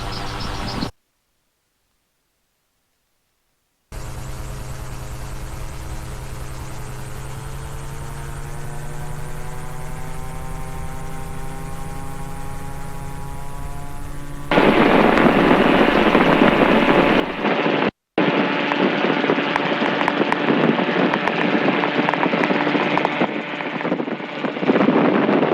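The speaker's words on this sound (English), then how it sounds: "Rotor RPM is increasing." A helicopter's rotor winds up on startup, a steady whirring drone whose pitch climbs gradually, then a louder, harsher engine and rotor roar takes over after a brief silence.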